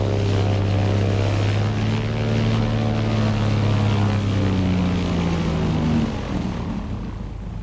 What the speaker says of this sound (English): Bishop Leo Arkfeld travels his diocese of Wewak in a Cessna 180